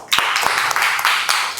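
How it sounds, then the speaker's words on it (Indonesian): A classroom of students clapping their hands after a group presentation, several quick bursts of applause close by, with faint voices mixed in. "Tepuk tangannya mana?"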